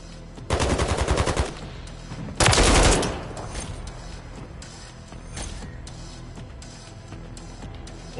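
Rapid bursts of turret gunfire in a video game, with two loud, fast rattling volleys followed by quieter scattered shots and clanks.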